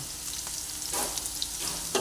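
Mustard and poppy seeds sizzle steadily in hot oil in a pan with turmeric added for a bitter gourd dish, a continuous close frying hiss with a few brief crackles and stirring bursts.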